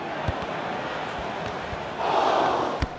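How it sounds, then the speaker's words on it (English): Stadium crowd noise in the mobile football game Dream League Soccer 2020, a steady roar of supporters that swells louder near the end, with a few soft thumps scattered through. "the crowd are well behind their team now they've got their goal"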